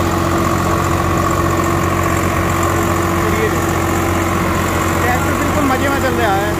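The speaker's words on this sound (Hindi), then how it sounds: "50 HP की कैटेगरी का ट्रैक्टर है। तो ये आप परफॉर्मेंस देख रहे हो 8 फीट के रूटावेटर के ऊपर।" A 50 HP Swaraj 744XT tractor runs at about 1700-1800 RPM while pulling an 8 ft rotavator through a wet field, a loud, steady diesel drone with constant mechanical churning, and someone talks over it.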